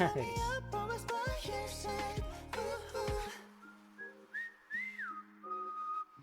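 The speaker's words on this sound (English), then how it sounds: "Oh, he's whistling." A man whistles a bright, sliding melody within a pop song, the clear whistled line taking over after a dense instrumental passage and continuing in short phrases.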